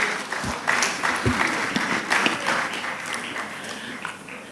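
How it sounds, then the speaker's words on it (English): An audience at an annual law conference session claps steadily for a few seconds, a dense, even patter of many hands filling the room with a few louder accents, fairly close and alone. "Please join me in welcoming them with a round of applause"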